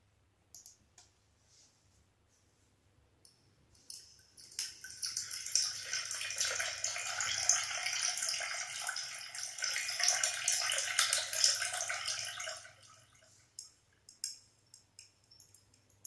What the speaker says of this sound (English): I just poured the water into the cup